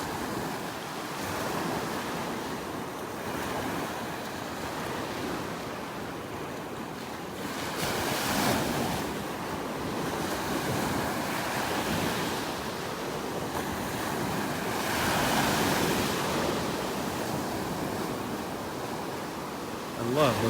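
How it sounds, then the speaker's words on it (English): Ocean surf rolls onto a beach in North Naples, Florida, a continuous wash of breaking waves that swells and recedes every few seconds, with wind buffeting the microphone and no talking. "I love listening to those waves."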